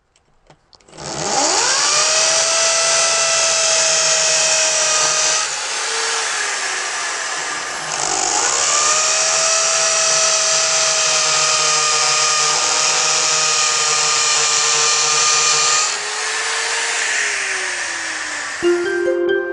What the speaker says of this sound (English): we now have our holes marked and we're ready to drill